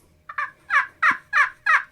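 A GSM Outdoors Cookie Cutter friction turkey call gives a yelp, a run of five or six evenly spaced, rising notes, close and loud with no talking over them.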